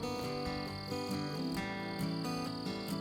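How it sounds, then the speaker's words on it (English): Crickets chirp in a steady, continuous chorus in the bush along the Bibbulmun Track, a dense high buzzing texture with regular pulses, moderately loud and unaccompanied by talk. "But do you hear the crickets?"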